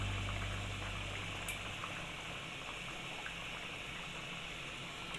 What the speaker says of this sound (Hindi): जी बिल्कुल स्लो आंच कर दें ताकि घी बिल्कुल अलग हो जाए।